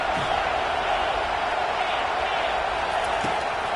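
A home football crowd roars in a dense, sustained wash of cheering as the defense tries to get off the field on third down.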